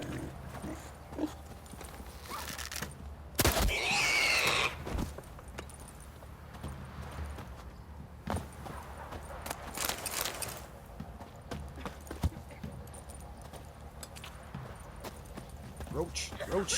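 Hoofbeats of the horse Roach in The Witcher 3 clop along unevenly beneath frequent talking, with a loud burst of movement early on and scattered steps afterward.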